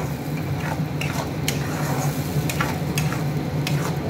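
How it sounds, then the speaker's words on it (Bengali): Spinach being stir-fried in a pan for palak paneer, with a steady close sizzle and scraping stirs, plus a few sharp clinks of a utensil against the pan over a low hum. "পালংটা ছেড়ে দিচ্ছি। এটা দিয়ে আমি অনেকক্ষণ কষিয়ে নেবো, পুরো মিক্স করে নেব।"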